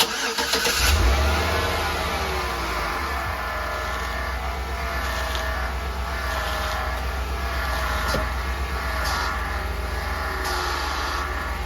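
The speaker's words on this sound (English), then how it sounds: "that power steering pump really bogs down the engine" A 2014 Chevy Suburban engine runs steadily at idle for about twelve seconds, bogging under load as the power steering pump turns the wheel to full lock. It is a close, continuous rumble with no talking.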